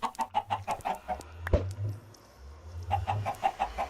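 Minecraft chickens cluck in quick repeated bursts while laying eggs, with a sharp pop between the bursts, then the rapid clucking runs again close by.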